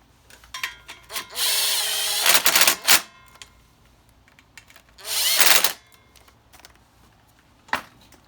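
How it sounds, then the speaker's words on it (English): Power tool tightening hose clamps on the cooling system of a 2009-2011 Honda CRF450R dirt bike, two sustained whirring runs and several short bursts between quiet clicks and handling noises, nearby. "Tighten down our hose clamps"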